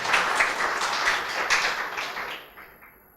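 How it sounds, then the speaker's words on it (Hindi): An audience claps in welcome at a class gathering, a dense burst of steady applause that carries on evenly and then fades out toward the end. "एक बार जोरदार ताली बजा के अभिनंदन करें।"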